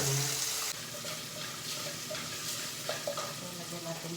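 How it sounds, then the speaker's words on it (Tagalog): Pancit canton noodles are stirred into simmering sauce in a pan, giving a steady soft sizzle and bubbling with occasional scrapes and clinks, close by and low in level. "Bababad natin yung ating noodles."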